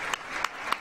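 Brief burst of crowd applause at a Badalona city council plenary session greeting young mayor Rubén Guijarro, a steady patter of many clapping hands with a few sharper claps standing out.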